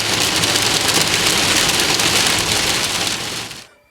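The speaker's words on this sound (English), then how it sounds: "a high precipitation, rain-wrapped storm like this one near the Alberta-Saskatchewan border" Heavy rain from a high-precipitation, rain-wrapped storm near the Alberta-Saskatchewan border, a loud, dense, steady roar of downpour that holds for several seconds and then cuts off abruptly.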